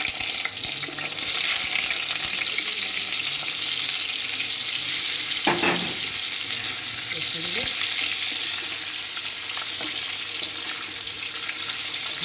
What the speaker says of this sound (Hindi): अभी उबाला हुआ जो गोभी है इसको इसमें डाल देंगे।